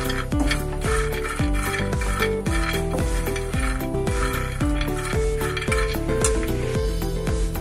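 Peanuts being dry-roasted in a pan for chutney, a regular clinking and scraping of a utensil stirring against the metal pan, repeated in a steady rhythm at close range with no talking.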